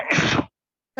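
A single short, sharp sneeze bursts out close by, then the sound cuts to silence.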